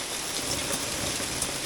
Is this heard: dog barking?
no